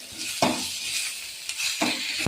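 Food fries in a pan with a continuous bright sizzle, punctuated by a few sharp scrapes and clinks of a utensil against the pan; no voices.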